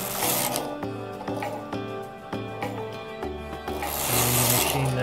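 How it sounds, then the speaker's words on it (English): An Empisal Knitmaster 321 knitting machine runs a row, its carriage giving a steady rasping slide with clicks and knocks across the needle bed, loud and continuous over a low hum. "and then you machine knit"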